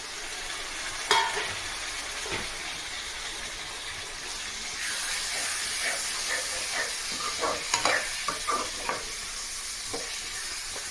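Prawns fry in a pan for gongura prawn curry, a constant close sizzle that swells midway, punctuated by a run of scraping stirs and knocks against the pan.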